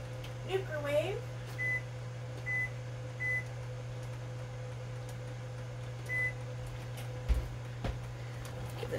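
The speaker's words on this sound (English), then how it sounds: "Set the timer on my microwave." A microwave oven runs with its steady low hum throughout while its timer is set, a few short electronic beeps sounding from the keypad, with faint kitchen clatter nearby.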